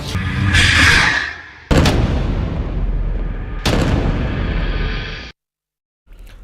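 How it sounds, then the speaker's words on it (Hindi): Explosions and gunfire from an attack on an Israeli armoured vehicle convoy, with loud booming blasts and sharp cracks in bursts, separated by brief near-silence. "हमास की ईज अल दीन अल कसम ब्रिगेड ने दावा किया है कि उसने इजरायली बख्तरबंद वाहनों के काफिले पर हमला करके उन्हें तबाह कर दिया है।"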